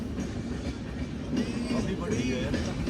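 A train rumbles past close by, a loud, steady rolling roar, with people talking over it.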